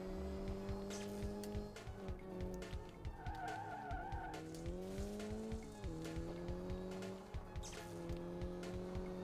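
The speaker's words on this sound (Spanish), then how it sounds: "Puse el coche así para que derrapara" A racing car in the Rally Fury video game drifts with sustained tire squeal over a steady droning engine note, the skid rising and falling in pitch for several seconds, with no talk.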